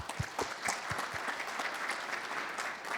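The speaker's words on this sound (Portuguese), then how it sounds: "Palmas para Jean Gereissati Neto." Audience applauding an honoree at an international Six Sigma congress in Brazil, a dense steady patter of many hands clapping with a few sharp individual claps near the start.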